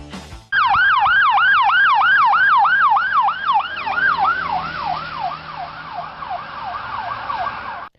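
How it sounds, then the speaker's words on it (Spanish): A passing emergency siren wails in steady repeated sweeps, loud and close at first, then dropping in pitch and fading as the vehicle moves away, showing the Doppler shift over a low road hum. "Es incluso más notorio cuando el objeto en movimiento emite un sonido constante como una sirena"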